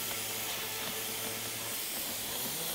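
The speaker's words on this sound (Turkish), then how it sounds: "Önce ince kat bir boya atacağım." A thin coat of paint is sprayed in one continuous pass, a loud, steady airy hiss up close that holds without breaks and without any voices.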